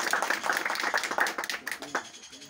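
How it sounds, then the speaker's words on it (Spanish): An outdoor community water meeting audience claps to welcome the president, a brief burst of scattered hand claps, close and moderately loud, thinning out toward the end. "espero que lo recibamos con un caluroso aplauso"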